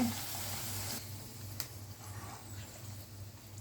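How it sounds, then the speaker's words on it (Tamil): Steady hiss and crackle of potatoes frying in hot oil, soft and continuous with a brief sharper pop near the middle. "நான் ரொம்ப கிறிஸ்பியாக பொரிக்கல இது"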